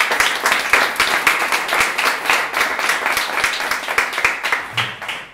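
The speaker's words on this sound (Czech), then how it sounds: "A hlavní asi potlesk pro Lucii Okonovou" Sustained applause from a theatre audience at a premiere, dense and steady clapping filling the space, tapering slightly at the end.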